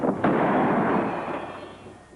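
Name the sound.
gunshot in a western TV show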